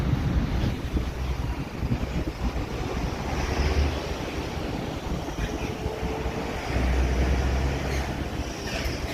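Steady surf on the sea at Jeddah, Saudi Arabia, washing in with gusty wind buffeting the microphone, a constant low roar with no voices.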